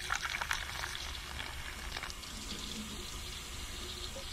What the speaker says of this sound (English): I'm just gonna use water and just gonna fill that port